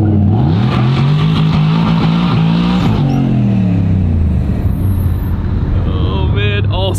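Ford GT90 quad turbo V12 accelerating hard on a town road, a loud, close engine roar rising steadily through the revs with brief gear-change dips, continuous throughout.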